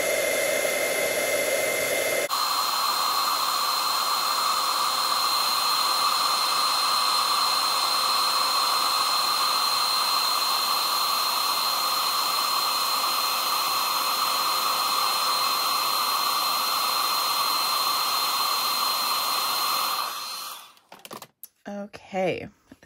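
A handheld heat tool blows steadily over a silver embossed outline on a floral stamping project, a constant loud whirring hiss that runs nearly twenty seconds before cutting off, with a few clicks and handling noises at the end.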